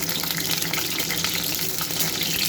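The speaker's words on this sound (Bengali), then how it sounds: "ফুলকপিটা দিয়ে দিলাম, হালকা করে ভেজে নেব।" Cauliflower frying in white oil in a pan makes a steady, dense hiss that stays constant and close for the whole moment, with no voices over it.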